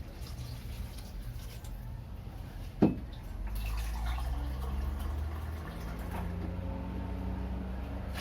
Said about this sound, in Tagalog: Lagyan natin ng 2 cups of water.